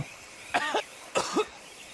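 Two short, close coughs from a character in Red Dead Redemption 2, each a quick raspy burst, spaced about half a second apart against faint background hum.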